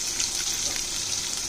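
Fennel seeds and chopped onion fry in a pan with a dense, steady sizzle and crackle heard up close, unbroken and without any voices.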